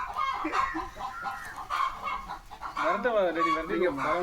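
Chickens cluck and warble nearby in a home garden, a busy overlapping run of hen calls with no pauses.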